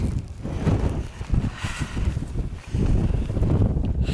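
Wind buffeting the summit of Windy Gyle on the Pennine Way, heavy gusty rumble battering the microphone in loud surges that swell and ease repeatedly, alone without speech.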